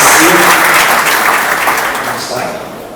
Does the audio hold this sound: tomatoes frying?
no